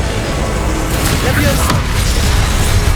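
Spell combat in the video game Hogwarts Legacy: Confringo blasts go off as loud, dense booms and crackling bursts. A steady, noisy din of game effects runs throughout, and the impacts rise out of it around the middle and near the end.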